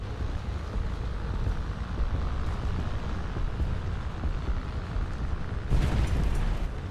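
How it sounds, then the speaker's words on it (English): A bomb bursts beside a Clemson destroyer in a naval combat game, a broad rumbling boom swelling near the end over steady wind and sea noise. "let's just drop a bomb right about there"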